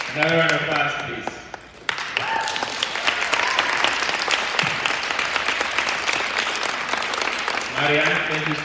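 Sustained crowd applause fills a conference hall, dense and steady clapping after a brief spoken opening, with a voice returning over the tail end.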